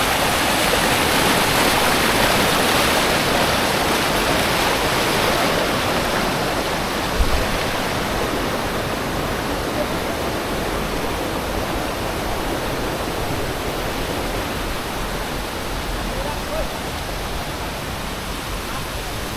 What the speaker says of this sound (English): Just another casual day of sitting in the rapids in a river in the middle of the jungle in the Philippines